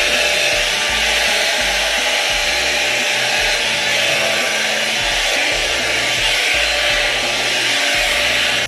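A budget five-in-one hot air brush, a Dyson Airwrap dupe, runs on its second setting while drying hair, giving a steady, loud, continuous whoosh of blown air with no pauses throughout.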